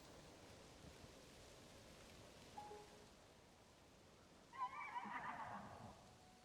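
A horse whinnies in the game Zelda: Tears of the Kingdom, a brief moderately loud neigh arriving late against a steady background of soft rain-like ambience.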